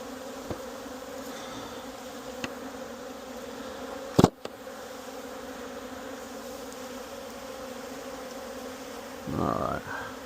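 Honey bees buzz steadily around apiary hives with a continuous low drone, a few louder insects flying close past the listener and a brief sharp knock midway.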